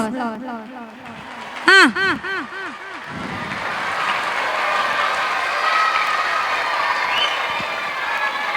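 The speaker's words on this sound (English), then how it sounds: "And say goodbye to sister with a big round of applause." Students applauding at a school Christmas celebration, a broad steady wash of clapping that swells and holds after a voice speaks at the start, with a loud shout or cheer cutting through briefly.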